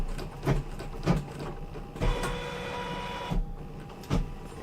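An embroidery machine stitching metallic thread makes a rhythmic mechanical whirr, broken by regular thumps about once a second and a brief trimming whir in the middle.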